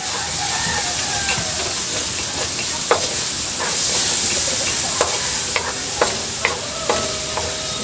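Eggplant adobo with oyster sauce stirred in a hot pan: a loud, continuous sizzle with a spatula clacking against the pan at irregular intervals, and no talking.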